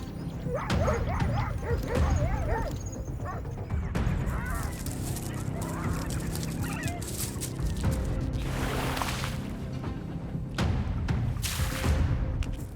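A pack of wild dogs confronts a hyena, with repeated sharp barks, yips and whimpering cries crowding together at close range over a dense, continuous backdrop of rustling and commotion.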